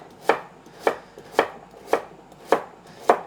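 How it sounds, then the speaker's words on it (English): A knife chops through sweet potato on a cutting board in six evenly spaced, crisp strikes, close and clear with no talk. "this sweet potato, by the way, is for my curry. So again, cut in half and just slice that up"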